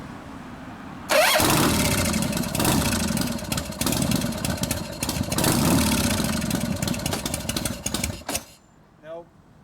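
A Harley-Davidson Shovelhead engine with a newly installed Rivera Pro Clutch cranks and catches. It runs loud and close with a rough, uneven rumble and some revving for about seven seconds, then cuts off abruptly into quiet.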